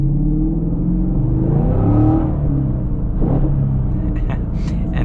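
A 2022 Chevy Camaro V8 accelerates hard from inside the cabin, its engine rumbling and rising in pitch as the rear wheels spin, with someone talking over it.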